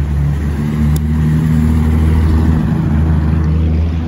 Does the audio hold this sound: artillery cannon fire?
no